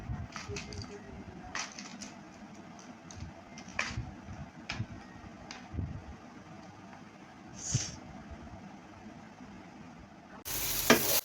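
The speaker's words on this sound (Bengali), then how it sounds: "যে টমেটো, তারপর পেঁয়াজ, রসুন এগুলো একটু ভেজে নিচ্ছি" Tomato, onion and garlic fry in a pan at home, a soft, steady sizzle with scattered clinks and stirring taps, rising to a louder burst of hiss near the end.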